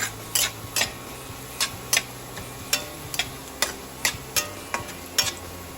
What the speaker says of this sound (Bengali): দেখছেন আস্তে আস্তে ভাজা হয়ে যাচ্ছে আমার আদাটা